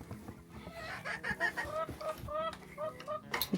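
Hens in a coop during a winter storm in southern Kentucky cluck and murmur in short, overlapping calls, close by and moderately quiet, with a soft squawk near the end.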